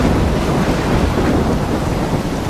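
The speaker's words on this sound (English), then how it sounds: "I'm trapped in a storm?" A thunderstorm with heavy rain in the video game Life Is Strange: a loud, steady roar of rainfall and rumbling fills the whole stretch without any pause, and no one speaks.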